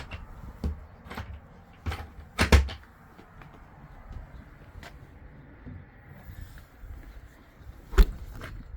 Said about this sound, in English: right here we've got the gas cupboard.